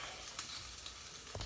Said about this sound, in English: look at that bacon. Look at it sizzling.